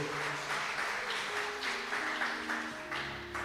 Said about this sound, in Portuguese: Quem pode aplaudir ao Senhor?